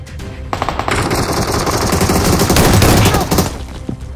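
Automatic gunfire in the mobile battle royale game BGMI, a loud rapid burst of shots that sustains for about three seconds before cutting off, with faint game sounds around it.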